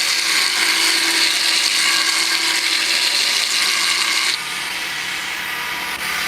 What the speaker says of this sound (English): So I just chamfered it just a little bit more.